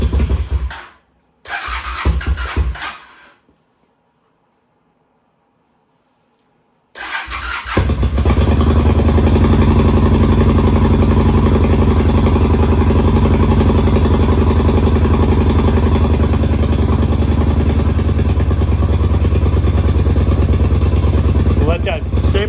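A chain-drive Honda Shadow 750 motorcycle being winterized cranks briefly with a few sputtering attempts, goes quiet, then catches and settles into a loud, steady, close rumbling idle that runs on continuously.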